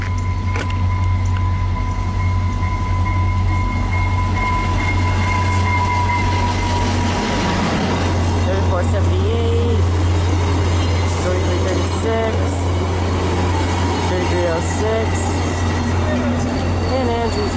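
A VIA Rail passenger train rolls through a level crossing with a loud, continuous low rumble of wheels and cars, while steady tones ring near the start.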